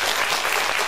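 A dense wash of crowd applause for the judges at an outdoor patriotic poetry recitation contest in a Seoul park, loud and continuous through the whole short stretch with no voices.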